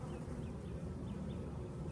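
Honey bees crawling over a hive frame, a low, dense, continuous buzzing hum from many insects close by, steady through the short stretch with no talk.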